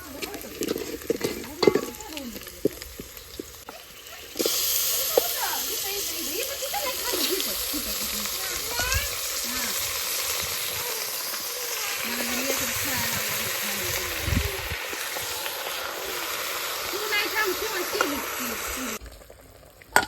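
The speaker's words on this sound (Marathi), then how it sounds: "आता शिजायला टाकी ते भाजलाय परतालाय" Chicken curry sizzles and bubbles in a pot over a wood-fired clay stove, a loud steady frying hiss with stirring scrapes running for about fifteen seconds, with brief handling noises before and after.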